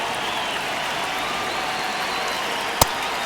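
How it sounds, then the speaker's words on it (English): Steady broadband stadium crowd murmur in a baseball video game, MLB The Show 26, Athletics vs Houston Astros, a continuous even wash with one brief sharp knock near the end. "This crowd doesn't sound as confident as they were a few minutes ago"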